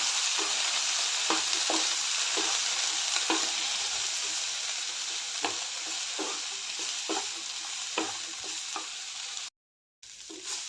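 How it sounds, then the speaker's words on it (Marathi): Onion and tomato frying in a pan until reddish-brown, a steady loud sizzle with periodic scraping stirs, briefly cut to silence near the end. "कांदा आणि टोमॅटो चांगलं लालसर होईपर्यंत भाजून घेऊया"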